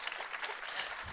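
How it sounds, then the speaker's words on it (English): Audience applause at a Nordic female investor meetup, a steady dense clatter of many hands clapping together throughout, with no voices over it. "Give Linda a huge round of applause."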